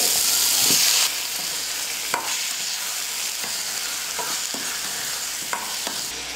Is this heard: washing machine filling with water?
no